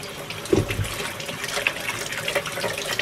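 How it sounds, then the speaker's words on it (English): Vegetables for Korean fried rice are rinsed under a running kitchen tap, a steady close splashing stream of water with a few brief louder splashes and no voices. "Give them a good rinse."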